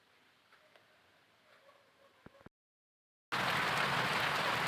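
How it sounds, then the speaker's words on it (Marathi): Light rain falls at night as a faint steady patter, then after a brief silent gap returns as a much louder, close, even hiss. "बारीक बारीक पाऊस येऊन राहिलेला आहे"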